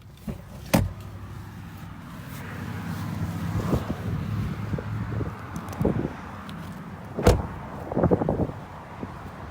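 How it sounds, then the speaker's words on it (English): Genesis car pulling up and stopping with the ignition switched off, a low engine hum under wind noise, broken by a few sharp clicks and mechanical knocks close to the microphone. "we'll get pulled up here and go ahead and get the ignition turned off"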